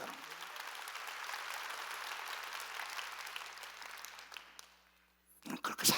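Church congregation clapping during a Korean sermon, a sustained, fairly distant roll of many hands that fades out near the end before a few louder sounds break in.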